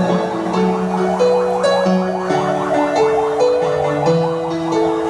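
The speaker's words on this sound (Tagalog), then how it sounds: "Ayun na, may wangwang na. May wangwang na, hinuhuli na tayo." A wailing siren cycles through rising and falling tones over a constant rumble of background noise, loud and continuous.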